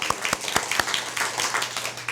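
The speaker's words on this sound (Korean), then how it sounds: "우리 두 배만 더 크게 박수하겠습니다." Applause from a church congregation during a Korean Methodist service, a short burst of scattered, fairly close hand claps that keeps going evenly without speech.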